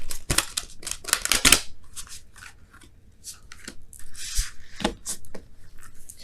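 Oracle cards are shuffled by hand in quick bursts of crisp papery riffles and flicks, close and clear, with brief pauses between handfuls and no voices.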